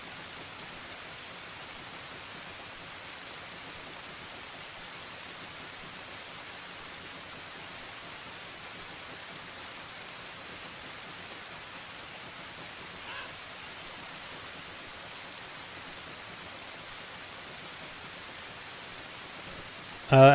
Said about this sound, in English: Do you guys want to listen to rain while I'm gone?